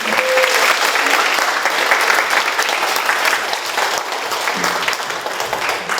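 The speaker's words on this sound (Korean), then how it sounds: "저는 분명히 스피커로서 다시 한번 큰 박수 부탁드리겠습니다." Sustained, loud audience applause at a youth seminar on Park Chung-hee, an even roar of many hands clapping that eases slightly toward the end.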